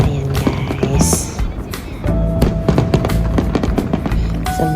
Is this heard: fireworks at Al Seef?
yes